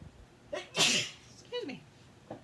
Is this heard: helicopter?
no